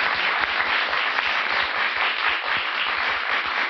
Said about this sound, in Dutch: Dames en heren, mag ik een applaus voor Esther Hoijmaiers.